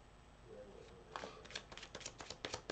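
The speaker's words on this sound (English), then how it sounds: "I'm going to shuffle a little while" Tarot cards being shuffled by hand at close range, a quiet run of quick riffling flutters and soft slaps in a steady irregular rhythm after a brief pause, with no talking.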